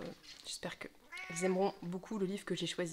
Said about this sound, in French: Il y a le chat qui miaule